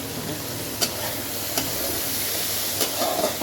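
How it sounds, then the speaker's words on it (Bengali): Bitter gourd frying in a pan on the stove, a dense continuous sizzle up close with a few sharp spatula taps against the pan. "এখানে বসে দিয়েছি উচ্ছে ভাজা"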